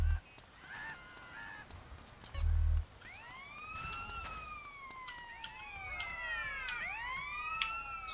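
Police car siren wails in GTA San Andreas, rising and falling tones layered and overlapping, joined by short low blasts, moderately loud with no talk.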